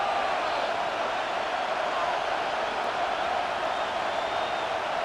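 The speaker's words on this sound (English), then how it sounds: "The Buffalo crowd being heard before third down." Steady, dense roar of the Buffalo home crowd in Madden NFL 26, a broad unbroken wash of stadium noise at constant loudness with no distinct cheers or voices standing out.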